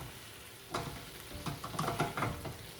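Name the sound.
shrimp liquids boiling and reducing in the pan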